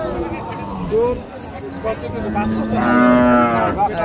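Cows mooing at Bamundi cattle market, where dairy cows with calves are for sale; a few close, loud moos, the longest drawn out near the end, over murmuring market crowd and someone talking.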